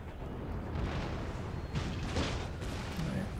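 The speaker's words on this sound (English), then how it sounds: "toggle shrapnel shot and fire shrapnel shot at the breach" Artillery in Empire: Total War fires shrapnel shot as a dense, continuous roar of battle noise, with a few heavier booming bursts rising out of the din.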